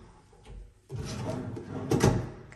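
A self-closing drawer slides shut, first a soft rolling glide, then a muffled thud as it settles closed, heard close up in a quiet room.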